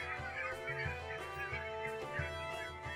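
Several birds call repeatedly with nasal, honking cries, overlapping in an irregular chorus close by.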